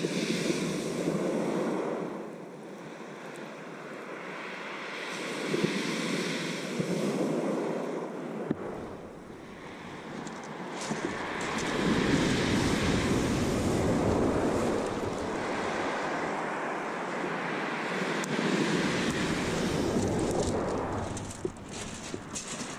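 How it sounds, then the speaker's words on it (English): Ocean waves break on the shore at high tide during a bass fishing trip, with rolling surges of surf rising and falling over steady wind buffeting the microphone. "You get one or two bloody huge waves."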